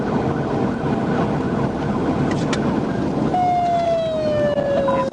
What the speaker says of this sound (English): Corporal Love initiated his emergency lights and sirens and began to pursue Mr. Stevenson.